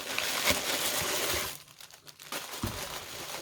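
Loud crinkling and rustling of paper being unwrapped, briefly quieting in the middle before more crackly handling resumes.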